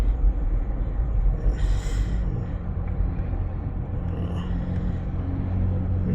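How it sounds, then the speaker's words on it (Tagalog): City road traffic rumbles steadily in Cebu City, a low continuous drone of passing vehicles with a brief hiss and a few faint clicks. "And this is the traffic going there."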